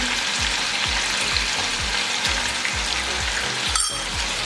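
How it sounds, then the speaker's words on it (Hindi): Chicken pieces fry with ginger and garlic paste in a pan for chicken korma, a steady loud sizzle with a faint rhythmic scraping from stirring underneath. "10-20 सेकंड के लिए इसको हम फ्राई कर लेंगे।"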